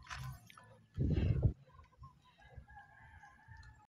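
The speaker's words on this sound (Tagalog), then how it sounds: "iniyaw na naman ng manok" A rooster crows once nearby, a loud ragged call, followed by quieter background chirping and faint ambient noise.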